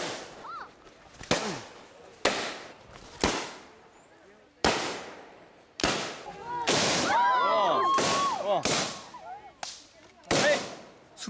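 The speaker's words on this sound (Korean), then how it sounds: "숲을 뒤흔드는 총소리." Sharp gunshots from the Basha Miao, a tribe permitted to carry guns, ring out one after another with long echoes rolling through the forest around the village, about ten loud cracks spaced irregularly, with a brief whistling tone between them.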